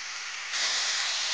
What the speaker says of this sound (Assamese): এতিয়া অকণমান ভালদৰে ভাজি